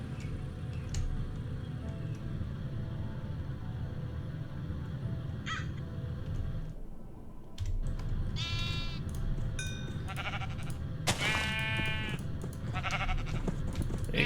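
Minecraft sheep bleat in several wavering, nasal calls over a constant low game ambience, grouped in the second half and joined by other short farm-animal sounds.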